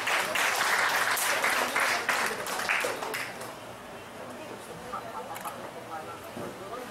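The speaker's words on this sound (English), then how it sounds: "Let's give him a big round of applause." Conference audience applauding a speaker at a medical college conference in Manila, a dense burst of clapping that is loud at first and then thins and fades over several seconds.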